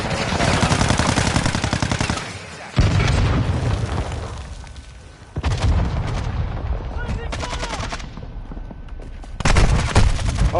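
Bursts of rapid gunfire with booming shots come in loud waves, broken by short lulls, like a heated firefight, in a Modern Warfare 2 team deathmatch game.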